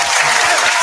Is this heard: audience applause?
yes